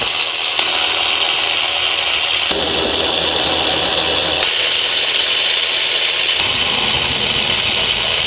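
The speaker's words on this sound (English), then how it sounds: "So we're just going to get the 6 bolts off now" Power tool, likely an impact wrench or ratchet, backing out the six water pump bolts on a Chevy Express 6.0 V8 in a retired school bus, a steady loud whir changing pitch in several bursts with no talking.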